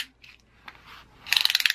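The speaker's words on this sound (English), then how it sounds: "We got a tape measure." A tape measure is pulled out quickly and its blade ratchets with a rapid series of bright metallic clicks, preceded by softer handling rustles.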